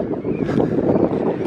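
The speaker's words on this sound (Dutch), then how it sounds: "Excuses voor de wind." Wind buffets an outdoor microphone during a walk through a renovated area, a steady, loud, low rumbling roar filling the whole moment with no talk.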